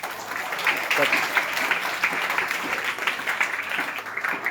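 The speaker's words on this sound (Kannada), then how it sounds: "ಜೋರಾಗಿ ಚಪ್ಪಾಳೆ ತಟ್ರಪ್ಪ." Children at a camp clapping together, a dense, moderately loud patter of applause lasting several seconds with some voices mixed in.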